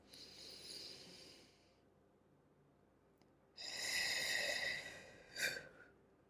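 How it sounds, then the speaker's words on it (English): A deep breath taken close to the microphone: a long soft inhale, a pause, then a louder rushing exhale ending in a brief puff, quiet and alone. "take a deep breath with me"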